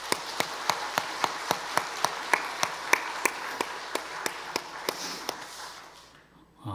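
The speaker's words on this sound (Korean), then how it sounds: "우리 교사들에게 한번 박수로 한번 격려하십시다." A church congregation at a Sunday afternoon service claps together in a steady, even rhythm of sharp hand claps that stops near the end, leaving a brief hush.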